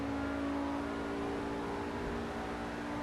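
Pegassi Ignus engine in GTA Online held at a steady, droning pitch during a flat-out top speed run, a continuous even hum with no shifts or breaks.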